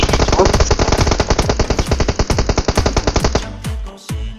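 Sustained automatic gunfire in the mobile battle royale game PUBG Mobile, a rapid, loud, close stream of shots for several seconds, then a couple of heavier isolated blasts as it stops.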